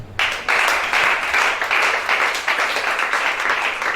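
A congregation bursts into applause, a close, energetic patter of many hands clapping that starts abruptly and stays strong and continuous.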